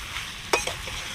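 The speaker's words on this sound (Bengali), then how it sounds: "সব কিছু ভালো করে মশলার সাথে কষিয়ে নেব" Potato and soybean chunks stirred with spices in a pan for an egg-soybean curry, one sharp spatula scrape and a lighter follow-up over a soft background sizzle.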